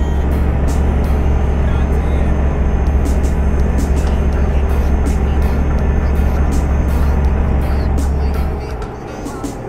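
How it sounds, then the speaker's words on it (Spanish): New trucks roll through traffic in Euro Truck Simulator 2, a loud, steady low engine drone with road rumble holding throughout before fading slightly near the end. "estos camiones nuevos en el tráfico"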